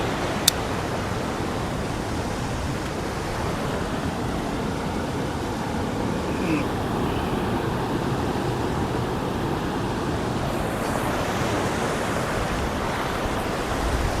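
A strong river current rushing past at a picnic spot on the Jhalong river, a loud, broad, steady roar of flowing water with no pauses.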